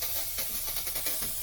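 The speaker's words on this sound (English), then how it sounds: "The steam pressure is okay, not too strong, which is friendly for beginners." Steady, faint hiss from the single-hole steam wand of a Wirsh Home Barista Plus espresso machine, moderate pressure, continuous with slight fluctuations and no talk.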